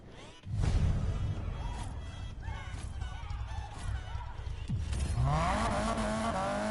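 A BMW M3 drifts in Need for Speed Payback, its engine roaring steadily as tires squeal in rising and falling streaks, ending in a long, loud skid that climbs higher, with the car up close throughout.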